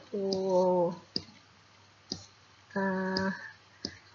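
A computer mouse gives four sharp, isolated clicks at irregular intervals, close and crisp, with a person's voice speaking in between.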